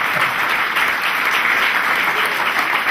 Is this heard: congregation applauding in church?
yes